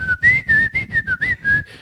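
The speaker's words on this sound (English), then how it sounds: "when we don't say nothing, we just whistle" A person whistles a quick, clear melody of about eight short notes close to the microphone, each note separated by brief breaths, alone with no talking.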